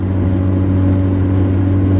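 A car with a five-speed manual transmission cruising in fifth gear at about 2,800 RPM and 55 to 60 mph, a steady, loud engine drone with strong low harmonics and road noise, unchanging throughout.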